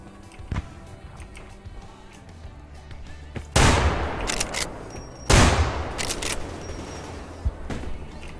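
Gunfire in the shooter game Survarim: scattered single shots early on, then two loud, sharp bursts of rapid fire a couple of seconds apart, each trailing off, with a few more isolated shots near the end.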